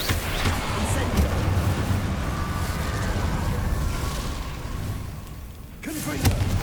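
Incendio fire spells are cast repeatedly in Hogwarts Legacy, a steady roaring, booming blast of flame that fills the stretch, fading briefly before a sharp burst near the end.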